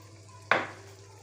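Water is poured into hot masala with fenugreek leaves, green chilies and garam masala for a Mughlai chicken handi, setting off one sudden loud sizzle that fades quickly.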